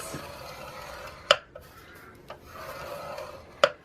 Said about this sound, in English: we are going to score at the 1½ inch mark